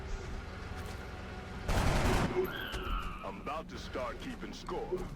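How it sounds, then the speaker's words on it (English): A single loud gunshot burst from a soldier's rifle in XCOM: Enemy Unknown, with a sharp broadband crack and brief rumble, followed by game sound effects and a person talking over it. "So there's no harm in going ahead and taking the shot"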